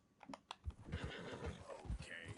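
A horse in the Red Dead Redemption II game lets out a shrill, wavering neigh lasting over a second, preceded by a few soft taps and hoofbeat-like thuds, moderately close with faint background game noise.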